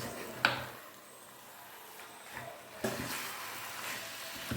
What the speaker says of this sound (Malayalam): നമ്മളതിനകത്ത് നന്നായിട്ട് ഇളക്കി അതിനകത്ത് ഗ്രേവിയിൽ പിടിപ്പിക്കുകയാണ് കേട്ടോ